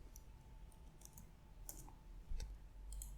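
Quiet keystrokes on a computer keyboard, a few scattered light clicks in short bursts over a low background hum, with no voices.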